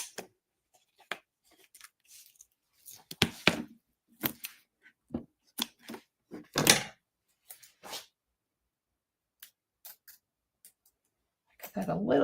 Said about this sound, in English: Cut some strips of it.